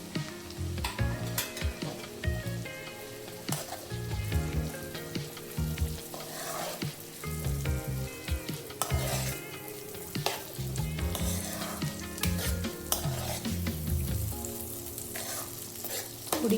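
Chopped onions fry and get stirred in a pan of garlic and green chili paste while making Surat-style paneer cheese ghotala, with a loud, steady sizzle and scraping stir strokes running throughout.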